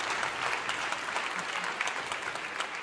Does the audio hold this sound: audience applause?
yes